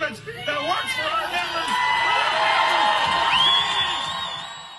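A crowd of strike supporters at a rally breaks into applause, cheers and whoops that swell over a speaker's voice and hold loud throughout, with shouts rising above the roar.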